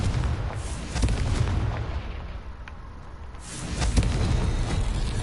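Confringo fire blast spell in Hogwarts Legacy, a loud, booming burst with heavy low rumble and crackling, sustained explosive roar across the whole stretch.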